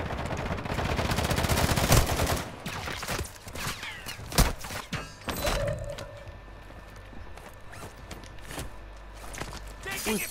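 Gunfire in Call of Duty: Warzone 2.0 on PS4, sharp loud shots and short bursts clustered early on, then sparser cracks, with players talking over the action.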